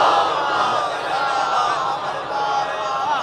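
A large crowd at a Shia majlis chants slogans together, a dense, sustained roar of many voices filling the hall evenly for the whole stretch.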